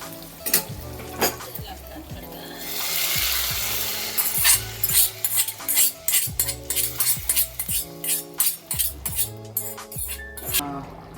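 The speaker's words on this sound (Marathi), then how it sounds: "आपण तडका देऊया" Tadka for chole sizzles in a pan, a hissing burst early on, then rapid metallic clinks and scrapes of a spoon stirring against the pan in quick rhythm.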